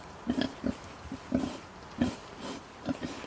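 A pig grunts softly in a series of short, low snorts, about eight of them spaced irregularly, close but quiet with no talking.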